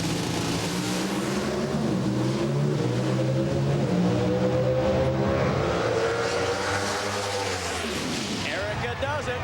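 Drag racing cars at the start line, engines held at high revs in a loud sustained roar with shifting harmonic tones that climb and then drop, overlaid by a commentator talking.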